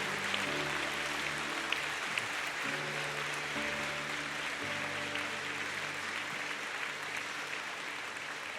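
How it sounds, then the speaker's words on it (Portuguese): Congregation clapping at a church service, a continuous hall-filling patter of hands at moderate volume, running under sustained organ or keyboard chords throughout. "Aplauda, gente."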